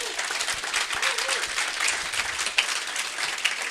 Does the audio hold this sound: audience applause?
yes